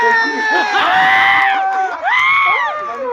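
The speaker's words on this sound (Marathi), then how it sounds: "जोरदार टाळ्या ताईंसाठी" At a lively women's game event in Chandni Chowk, a crowd close by breaks into loud cheering, whoops and high shouts in two rising bursts.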